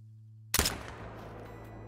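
A single rifle shot fired at a bobcat in the hunting game Call of the Wild: one sharp, loud crack after a quiet hum, then a lingering reverberant tail that slowly fades.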